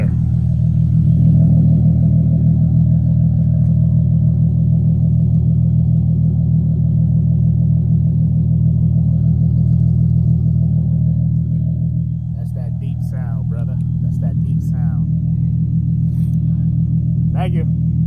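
A Nissan 370Z fitted with a Greddy exhaust idles with a deep, steady rumble close by, and a voice speaks over it in the later part.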